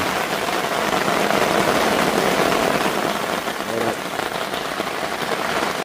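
Steady rain pours down continuously at a campsite in Pine Forest Park, Genting Sempah, a dense hiss of drops hitting surfaces with a low engine-like rumble underneath.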